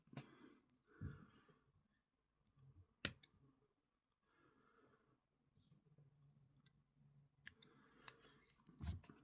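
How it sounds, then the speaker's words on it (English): Scissors snip away excess material while a pike fly is being tied, a few quiet separate clicks and cuts with soft handling noises between them in a calm indoor setting. "Trim off your excess."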